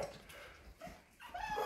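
Six-week-old American bully puppies whimper and yip close by, a cluster of soft, high whines and squeaks rising in short bursts over a faint background.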